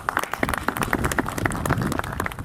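An audience at a memorial hall opening ceremony applauds to welcome a lecturer, a steady run of scattered, moderately loud hand claps from a modest crowd, with no talk.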